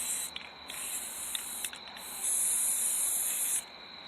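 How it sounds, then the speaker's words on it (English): A can of white spray paint hisses out in three close bursts, short at first and then a longer, louder final spray, with quiet gaps between them. "I'm praying that I don't run out of this white spray."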